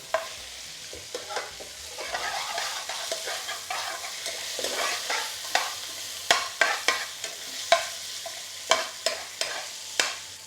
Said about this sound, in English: Throw in the bay leaf and cinnamon.